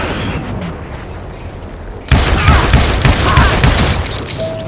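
Gunfire in the Western shooter game Call of Juarez Gunslinger, a sudden loud burst of repeated shots and booms that keeps up as a dense, continuous volley after a quieter stretch.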